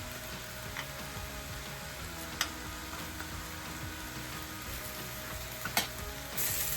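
Cashews frying in a pan for paneer bhurji give a steady soft sizzle, close and continuous, with a few sharp clicks of a spoon against the pan.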